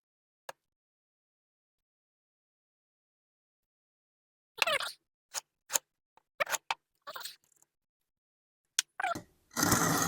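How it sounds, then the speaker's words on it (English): A knife edge is drawn across the lowest-grit stone of a Xarilk Gen 2 guided sharpener, giving short, close, gritty scraping strokes in an irregular series after a long near-silent stretch. "I then started sharpening with my lowest grit stone"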